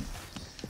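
A horse in Red Dead Redemption 2 picks its way down rocks, its hooves giving a few close, uneven clops over a gritty ambient bed.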